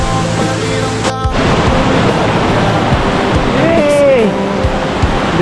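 Miyamit Falls in Porac, Pampanga roars as a steady, dense rush of falling water close by, with a brief whistle-like tone and voices faintly present over the constant torrent.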